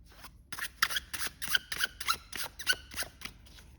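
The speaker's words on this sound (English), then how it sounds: "I'm just kind of giving the cards a shuffle" A Phantomwise tarot card deck is shuffled by hand, a quick series of soft, papery riffling bursts, close and quiet, with no talk.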